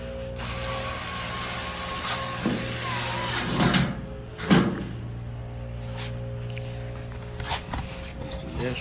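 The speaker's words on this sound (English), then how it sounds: "And you have your 1/4-inch screws to screw in and lock it in place." Ratchet driving 1/4-inch screws to lock a drum roller into place on a Maytag Bravos XL electric dryer, heard as a few short bursts of clicking under a steady background hum.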